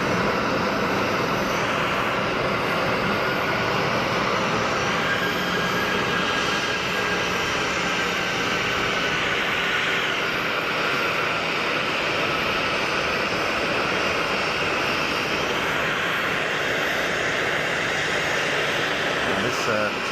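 An Etihad Boeing 787 Dreamliner lines up on the active runway at Geneva Airport, heard as a continuous, even jet-engine hum with a faint tonal whine, steady and moderately distant throughout.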